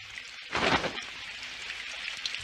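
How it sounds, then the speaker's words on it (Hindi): Steady rain patters in the background, a soft continuous hiss with a brief louder splash of water partway through. "काश ये बारिश जल्दी से रुक जाए।"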